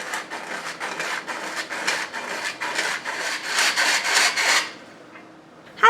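All-purpose flour being sifted, about one and a half cups, making a steady rhythmic scraping and rubbing that pulses in quick strokes for several seconds, then stops, with a brief knock at the end.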